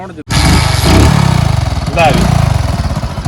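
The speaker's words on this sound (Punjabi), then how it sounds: "ਸਾਊਂਡ ਵੀ ਤੁਹਾਨੂੰ ਸੁਣਾ ਦਿੰਨੇ ਆ" A motorcycle engine runs steadily with a low, even thump beneath someone talking over it, close by and fairly loud throughout.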